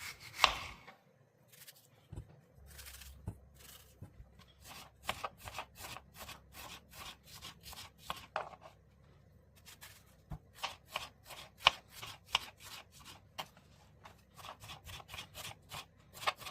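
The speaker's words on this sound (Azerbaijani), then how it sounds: "Öncədən yumuşam pomidoru, bibəri pizzaya uyğun, yəni zövqə uyğun doğrayırıq." Tomatoes and peppers being chopped for pizza toppings, a knife knocking steadily on a cutting board in quick bursts of close, crisp strokes separated by short pauses.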